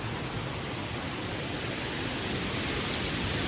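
Majestic and Crystal Falls in McDowell Creek County Park, Oregon, a steady broadband roar of falling water, constant and moderately loud throughout, with no voices.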